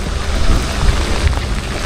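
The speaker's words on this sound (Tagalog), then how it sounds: "Grabe ang ulan ngayon." Heavy rain pours down outdoors in a dense, loud wash of noise, with deep low rumbles underneath that suggest thunder or gusts, no voices heard.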